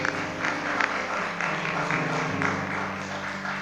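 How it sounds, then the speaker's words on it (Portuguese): A church congregation applauds after a pastor's call to praise Jesus, a steady wash of clapping under music or organ tones, moderately loud and continuous throughout. "Então dá uma salva de palmas ao Senhor Jesus."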